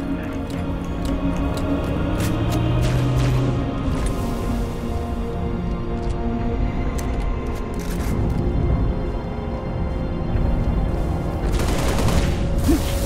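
Gunfire crackles through a Halo Reach campaign battle at Sword Base, with sharp, repeated shots and rapid bursts scattered over a steady low rumble of combat noise.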